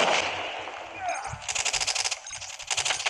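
Rapid bursts of automatic gunfire in Call of Duty, loud and close, firing in tight rhythmic volleys after a fading rumble, with a player voice heard briefly.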